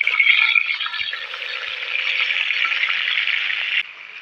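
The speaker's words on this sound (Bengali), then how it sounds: "তারপর আমি পটলগুলো ভেজে নিচ্ছি।" Pointed gourd (potol) pieces shallow-fry in hot oil, giving a steady bright sizzle with soft crackles that runs continuously and then cuts off near the end.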